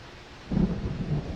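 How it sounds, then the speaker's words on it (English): Rain hisses steadily in the video game Landlord's Super as a low rumble of thunder rolls in partway through and lingers under the downpour. "I do like the way the rain is cleaning us."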